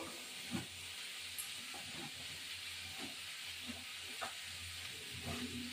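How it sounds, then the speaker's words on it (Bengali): Chili powder goes into a hot sizzling pan while cooking a pointed gourd and prawn curry, giving a steady close hiss with a few soft stirring knocks and no talk. "এখানে লঙ্কার গুঁড়ো দেবো,"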